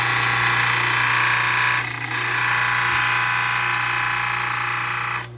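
A dental lab trimming wheel grinds excess material off a dental model, giving a loud, steady high-pitched whine that dips briefly partway through, then resumes until it stops near the end.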